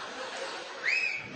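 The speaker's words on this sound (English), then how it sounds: "Whistle." A short whistle rising over a steady background hiss, brief and alone, lasting about a second.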